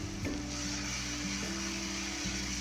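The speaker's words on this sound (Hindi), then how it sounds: "2 से 3 सेकंड हम इसको फ्राई करेंगे प्याज के साथ इस तरीके से।" Garlic ginger paste frying with onion for a mixed vegetable dish, a steady sizzle with occasional stirring scrapes, close and even, without speech.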